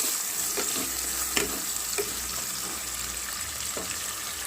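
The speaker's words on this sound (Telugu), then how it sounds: "ఆనియన్స్ని బాగా వేయించుకున్నాను." Onions frying in a non-stick pan, a steady bright sizzle with a few soft clicks of a spoon stirring, close and continuous, with no talking.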